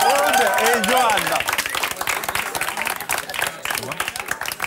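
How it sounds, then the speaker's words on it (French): Audience applauding for the comedy duo Aude and Johan at a French stage show, loud broadband clapping that starts strong and gradually thins, with voices and cheers mixed in. "Alors, on applaudit, on chauffe un petit peu, on applaudit."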